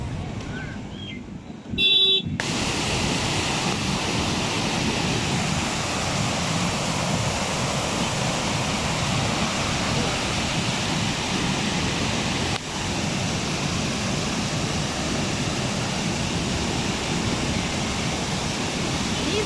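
Loud, continuous roar of river water rushing through the Kallanai dam, a steady broadband wash after a brief quieter moment at the start.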